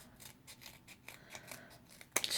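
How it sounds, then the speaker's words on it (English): Scissors snip through paper strips for a handmade shaker card, a quick run of close, crisp cuts that ends in a sharper snip. "Now I'm going to cut strips of this."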